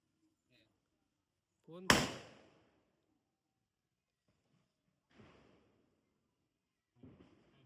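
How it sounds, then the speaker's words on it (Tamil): A single sharp, loud Diwali firecracker bang rings out nearby at night, followed later by a couple of faint, short crackling bursts in otherwise quiet surroundings. "நைட் வெடி வெடிக்க டைம் ஆயிடுச்சு."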